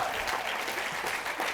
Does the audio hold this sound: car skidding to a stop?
no